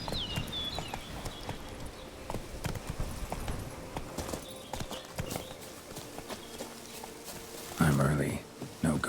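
Hooves of Roach, Geralt's horse in The Witcher 3: Wild Hunt – Blood and Wine, clatter in a steady galloping clip-clop over game ambience, with a louder rustling burst near the end.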